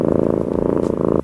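A cat purring close up, a steady rumbling purr with a fast regular pulse that runs continuously and then cuts off abruptly.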